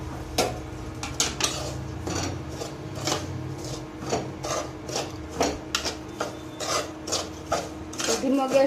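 Semolina roasting in ghee in a pan over a low gas flame gives a steady close rasping and scraping, with repeated strokes of a spoon against the pan in an uneven rhythm.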